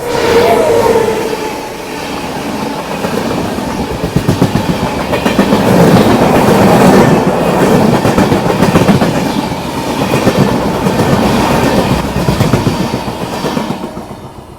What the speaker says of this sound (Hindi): पीछे से आ रही है दिल्ली गोड्डा वीकली एक्सप्रेस इसको ओवरटेक करने के लिए